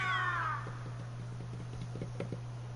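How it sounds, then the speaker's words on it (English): A cat gives a single rising meow at the start, up close and clear, followed by light scuffling and pattering over a steady low electrical hum; no one talks. "Oh, it's a cat."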